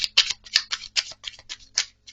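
Tarot cards are shuffled by hand in a quick series of crisp, papery slaps and riffles, about a dozen short bursts in a row, close up and alone.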